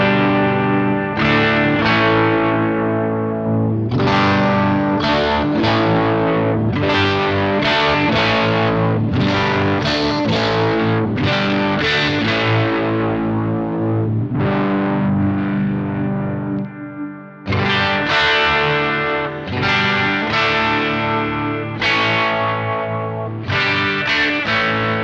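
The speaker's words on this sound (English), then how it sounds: "Let's actually kick off the tube screamer." Electric guitar from a Harley Benton DIY kit build, played through a Tube Screamer overdrive pedal: loud, continuous distorted chords and riffs with a brief dropout midway, no talking.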